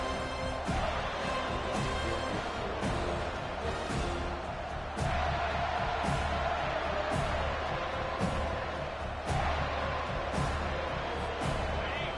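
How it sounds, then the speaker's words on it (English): Steady loud stadium crowd roar in a college football video game between FSU and Clemson, a dense wall of cheering and noise with repeated thumps and surges, and a commentator talking over it. "Listen to this crowd just shaking the girders of this place, trying to help their defense."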